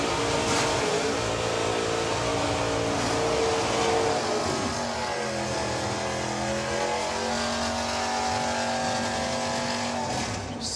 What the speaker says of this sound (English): Sounds so good, that Polara.